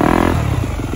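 A 2021 Yamaha YZ-250F dirt bike engine revs loud and close, its throaty four-stroke note rising briefly then settling into a rough, rattling idle.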